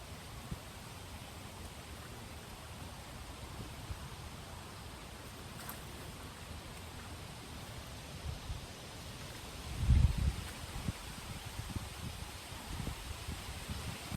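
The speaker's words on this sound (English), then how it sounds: "the wind blows and just the birds and the leaves rustling" Wind moves through leaves in a Pacific Northwest kitchen garden, making a soft, steady rustle with a gentle gust swelling briefly near the end.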